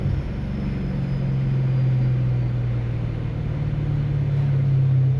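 Supercharged BMW E92 M3 with a DCT gearbox heard from the cabin while driving, a steady low engine drone with a sustained tonal hum and little variation.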